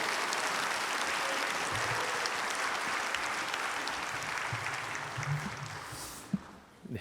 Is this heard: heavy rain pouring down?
no